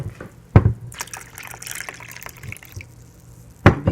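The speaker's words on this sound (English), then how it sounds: "I'm going to go ahead and pour in a cup of the juice here" Juice poured into a blender over sea moss, a splashing, gurgling liquid stream between two brief knocks at the start and end, close and moderately loud with no talk.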